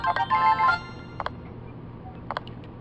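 A short melodic chime plays as a notification in the Nintendogs + Cats game on a handheld console, followed by a couple of faint, brief electronic blips.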